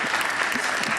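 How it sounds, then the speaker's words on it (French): Brief burst of congregational applause in a church, a dense wash of clapping from many hands lasting about a second. "Lève-toi, Victoire, on veut t'applaudir"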